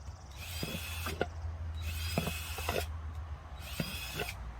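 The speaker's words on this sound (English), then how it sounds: "you're gonna take a drill, and you're gonna drill a couple, probably about 5 or 6 holes in it" A power drill whines in three short bursts separated by brief pauses, with faint clicks and knocks of the bit drilling holes through a plastic cup, close by.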